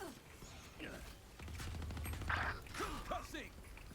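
A weapon reload in a video game clicks and creaks mechanically in a short sequence of metallic clacks and a ratcheting slide, fairly quiet, with players chatting over it.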